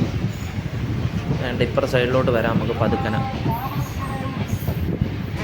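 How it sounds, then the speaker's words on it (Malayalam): A passenger train pulls out of Kayamkulam Junction railway station, its steady rumble and carriage noise continuing beneath someone speaking nearby. "കായംകുളം ജംഗ്ഷനിൽ നിന്ന് എടുത്തിരിക്കുകയാണ് നമ്മുടെ ട്രെയിൻ."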